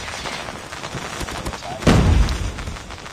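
Kilo 141 rifle gunfire in Call of Duty Mobile crackles as a rapid series of close shots, with one heavier booming impact partway through amid busy game noise.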